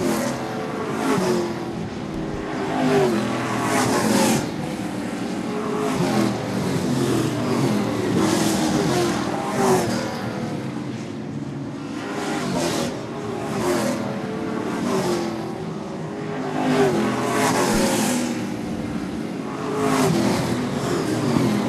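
Late model race cars roar around Seekonk Speedway in a steady, loud pack, engines rising and falling in waves as they pass, with no talk over the continuous racing noise.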